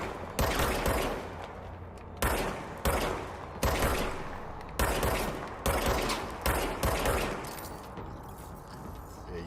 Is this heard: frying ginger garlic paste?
no